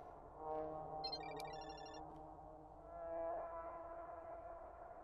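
A ringing phone in a video game: one brief high trilling ring burst near the start, set against a sustained eerie tonal drone, quiet and without speech.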